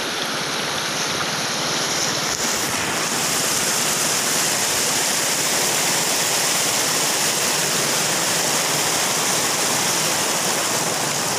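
A river rushes steadily and loudly at a spot where people are trying to wade across near a buried village bridge. The broad, constant roar continues without pause and no one speaks.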